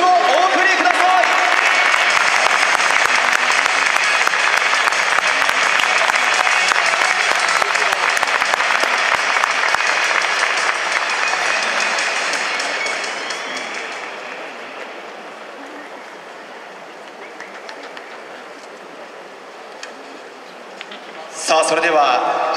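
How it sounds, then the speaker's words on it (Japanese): Loud, sustained audience applause at a baseball fan festival welcoming new players, a dense wash of clapping that fades down over several seconds before a brief burst at the end. "皆様今一度盛大な拍手をお送りください。"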